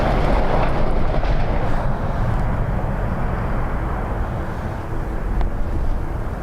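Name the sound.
British Airways A319 airliner arriving from Heathrow at Dublin Airport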